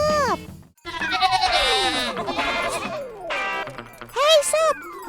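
Several sheep bleat repeatedly on a farm, loud, wavering calls that rise and fall and overlap one another, with a last strong bleat near the end.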